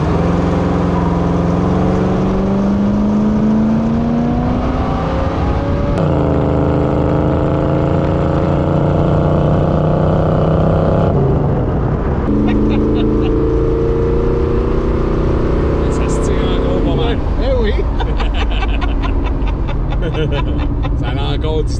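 A 1981 Chevrolet Monte Carlo Landau with a 350 engine accelerates hard, its loud engine note rising in pitch through several gear shifts, heard from inside the car while people talk.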